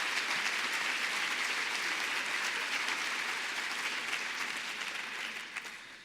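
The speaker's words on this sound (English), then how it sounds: "Again, a round of applause for those folks." Steady applause from a school audience at a back-to-school event, honoring band instructors and drum majors, with dense, even clapping that holds for several seconds and thins out near the end.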